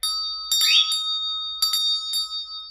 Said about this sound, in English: let us clear the energy with this beautiful dinner bell that I got